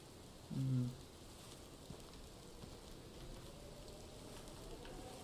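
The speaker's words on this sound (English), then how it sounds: "it's raining right now" Steady rain hisses across Pawnee Meadows in Hunting Simulator 2, a soft, even patter throughout, with one brief louder thump near the start.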